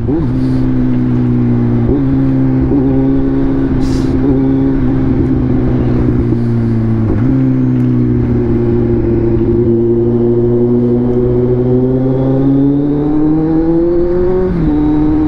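Kawasaki Z900 SE motorcycle engine droning steadily under load during a test ride, its pitch holding then rising smoothly in a few throttle swells, close and loud throughout.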